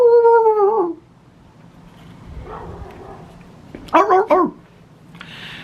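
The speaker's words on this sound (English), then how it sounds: "There's the dog again." A dog indoors gives a quick cluster of sharp, close barks partway through, after a higher whining or mewing cry at the start, with quiet room noise in between.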